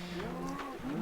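Baby cow in the Minecraft video game giving a single short moo, close and clear, with no one talking.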